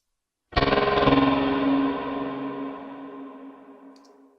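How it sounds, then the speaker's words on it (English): A single sustained cello note swells into dark, echoing reverb with layered effects, slowly decaying over several seconds with no voices. "It's a really dark sounding reverb."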